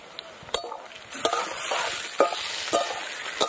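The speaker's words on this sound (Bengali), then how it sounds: "টমেটো দিয়ে এবার ভালো করে পেঁয়াজের সাথে আর একটু ভেজে নিতে হবে।" Onion, potato and tomato frying and being stirred in a pan, with soft sizzling under repeated sharp scraping and clinking strokes of a spoon, close and fairly quiet.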